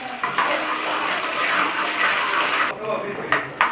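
Onions added to hot oil give a loud, close, continuous hissing sizzle that fades slightly toward the end.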